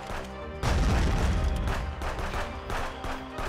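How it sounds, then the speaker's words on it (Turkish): A bomb goes off in the police-checkpoint game Contraband Police, a sudden loud blast followed by rumbling crashes and scattered gunfire-like bursts for a few seconds. "bomba"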